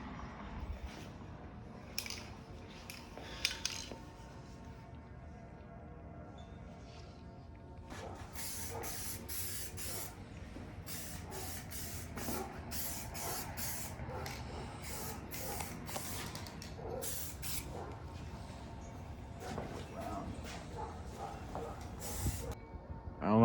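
A spray gun lays flake and pearl color coats onto a masked engine cover for a G35, in repeated short hissing bursts at close range, with faint background noise and no talk.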